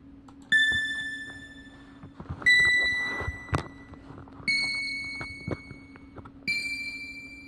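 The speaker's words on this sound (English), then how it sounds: "This here's a video game you lose jingle. Oh, I created it using an 8-bit synth." Custom 8-bit square-wave synth video game lose jingle: four separate bright electronic tones, each ringing out and fading, spaced about two seconds apart, with faint clicks between them.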